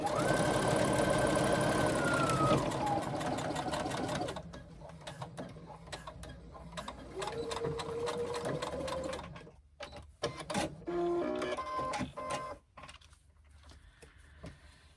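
A sewing machine runs steadily, stitching a fabric pocket pouch, its motor whirring loudly for several seconds before stopping and restarting in shorter bursts with pauses in between.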